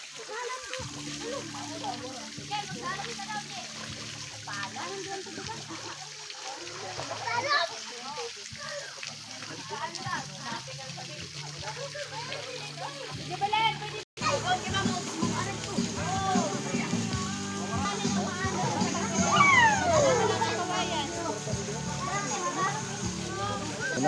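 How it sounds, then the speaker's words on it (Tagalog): People bathing in a water supply tank in a rural village, with splashing and sloshing water under steady chatter and children's voices throughout. "Naligo na sila oh."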